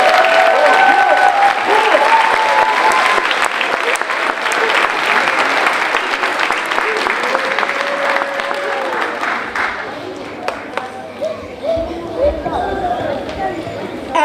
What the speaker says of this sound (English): Let us give another round of applause for all veterans here today.